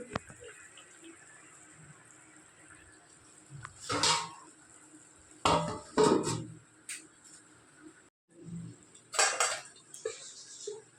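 Metal pot clatters as water goes into lentil paste and a lid is set on top, a few clinks and scrapes with quiet gaps between them, close by.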